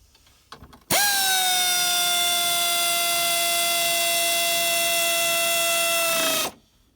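An air compressor kicks on abruptly in a garage during Ford Fusion ABS module repair work and runs steadily with a loud, sustained motor whine for several seconds before winding down and stopping.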